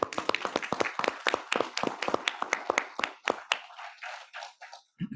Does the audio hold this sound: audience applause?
yes